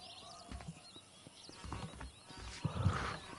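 A horse in Red Dead Redemption, hooves clip-clopping in an uneven rhythm with a whinny, close and moderately loud, no voices.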